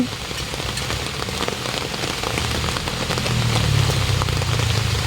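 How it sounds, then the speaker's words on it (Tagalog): Typhoon rain pattering steadily on a surface nearby, a continuous crisp hiss with a low drone swelling toward the end. "Rainy day."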